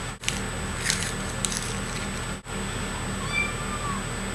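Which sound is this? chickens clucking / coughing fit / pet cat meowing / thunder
pet cat meowing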